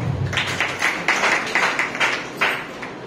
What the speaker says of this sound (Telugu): చప్పట్లు కొడదాం.